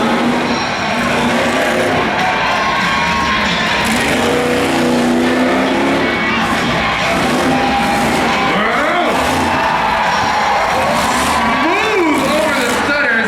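A vehicle's engine roars and revs continuously as it accelerates over a dirt course at a county fair, loud and close, with engine pitch rising and falling through the run while an announcer talks over it.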